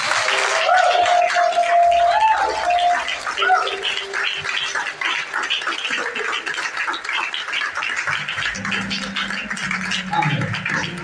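A church congregation applauds and cheers, with a broad wash of clapping and voices, a few raised shouts near the start and one voice ringing out over the crowd before the noise tails off.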